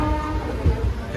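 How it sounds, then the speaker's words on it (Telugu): A passenger train pulls away on a route toward Kerala, its horn sounding as a low, steady rumble with a few brief swells, loud and close for about a second. "స్టార్ట్ అయింది ట్రైన్"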